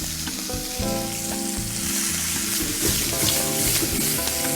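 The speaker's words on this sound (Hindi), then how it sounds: "सबरोसो के हम सीख कबाब तलना शुरू कर दें" Seekh kebabs fry in hot oil with a loud, continuous close sizzle and occasional stirring, with no speech over it.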